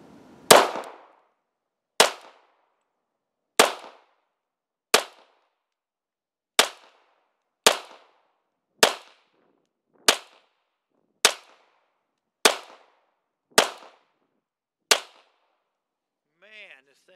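A Sig P226R pistol fires twelve crisp, loud shots at 10 yards on a range, evenly spaced about a second or more apart with clean silence between, then a faint voice at the end.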